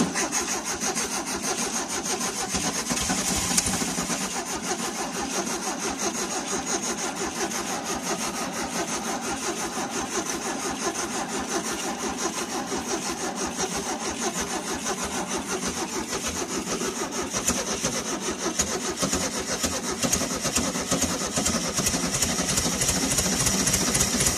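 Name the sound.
1973 VW Karmann Ghia engine starting and running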